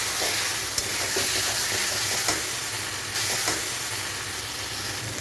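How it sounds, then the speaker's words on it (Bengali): Spices and pointed gourd fry in a pan with a continuous close sizzle, broken by faint stirring scrapes and small clatters. "মশলা ভাজা হয়ে গেছে, পটলটা দিয়ে দিলাম"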